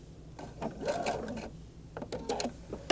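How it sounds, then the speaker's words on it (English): A sewing machine back-stitching through elastic on a shirred top, its needle running in short mechanical bursts with brief pauses and a soft whir between passes, close and moderately loud. "I'm going to back stitch to the bottom of the elastic."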